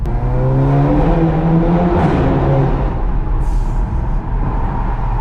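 A VW GTI Edition 30 fitted with an APR exhaust revs loudly from inside the cabin, a deep throbbing drone that climbs in pitch then settles, with wind rush behind it and no speech.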